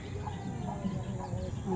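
A chicken clucks in short bursts close by while a person talks over it.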